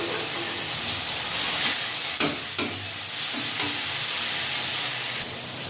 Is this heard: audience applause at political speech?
no